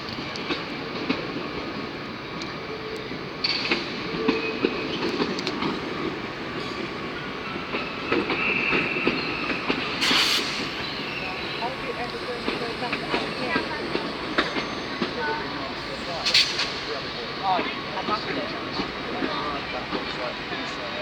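A Class 319 train pulls into a platform at Liverpool Lime Street, rumbling and clattering steadily with occasional high squeals and hisses, while someone talks over it.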